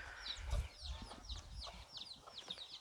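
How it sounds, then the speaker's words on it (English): A chick chirps in a rapid series of high, thin peeps near a mini horse's stall, repeating steadily with low rustling and thumps underneath. "He's just chirping his head off."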